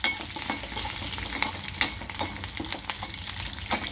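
Tempering with ginger for curd rice frying lightly in a little oil, a close steady sizzle broken by a spoon stirring and tapping the pan, no talking.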